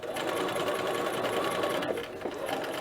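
A sewing machine stitches a yoke onto a McCall's 8031 dress, running in a steady close whir with a brief dip where it reverses to back stitch before driving forward again.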